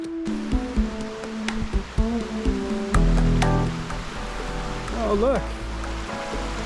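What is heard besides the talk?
creek water flowing in a forest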